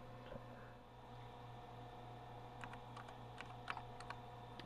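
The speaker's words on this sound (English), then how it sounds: "Yeah, I got my keyboard working." Quiet keystrokes from a repaired Compaq Portable computer keyboard click faintly and irregularly over a steady electrical hum, with a few slightly louder taps near the end.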